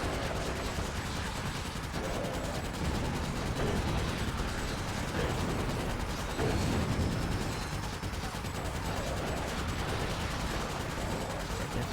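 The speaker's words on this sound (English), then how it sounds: "A lot of explosions happening." Dense, continuous gunfire and explosions from the Ratchet: Deadlocked video game, loud rapid bursts and booms layered without pause throughout.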